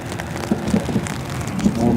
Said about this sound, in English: is the noise of the rain quite loud on the microphone?